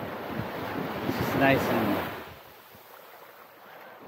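Steady wind rush and surf on Cinnamon Bay beach, St. John, U.S. Virgin Islands, swelling to a gusty peak and then settling into a low breezy hiss, with someone talking over the first half.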